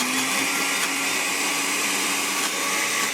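A kitchen blender whirs steadily at a low setting, blending cream of pumpkin soup, a loud continuous motor drone with a slight rise and fall and no talking.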